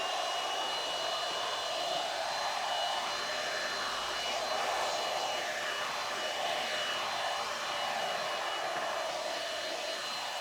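A Kissair cordless vacuum cleaner runs in handheld mode at a raised setting, giving a continuous high whine with airy hiss that stays steady from start to finish.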